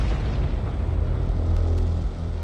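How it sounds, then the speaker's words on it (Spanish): A van packed with homemade explosives blows up beside government buildings in central Oslo, heard as a loud, sustained, roaring rumble with heavy low boom that stays dense and steady throughout. "Johan Tamberg se ve atrapado en la explosión y graba estas imágenes exclusivas."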